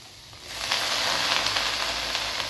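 Spinach and ginger sautéing in hot oil, a steady close sizzle that swells after a quiet start and holds dense and bright, with faint stirring.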